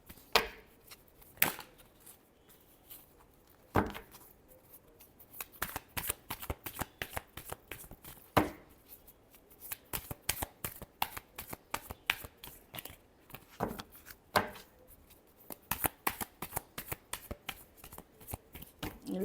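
Tarot cards being shuffled by hand, close and crisp, with bursts of riffling and sharp card slaps spread irregularly over a long stretch, the handling growing denser toward the end.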